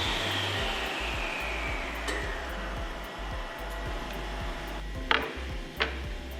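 A table saw coasting down after being switched off, a steady whirring drone fading slowly, with a couple of sharp clacks of boards near the end.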